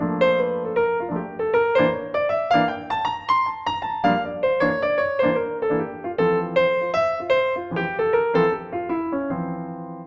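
Jazz piano solos in quick, flowing single-note lines over chords using the major bebop scale over a ii–V, moving up and down a scale in a steady swung rhythm.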